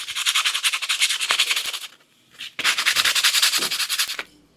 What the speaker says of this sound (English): So I'm just going to take some sandpaper. I'm going to do it by hand.